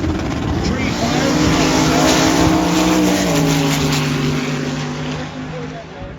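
A drag racing car launches hard down the strip, a loud engine roar climbing steadily in pitch for several seconds before easing off and fading, with crowd and track noise underneath.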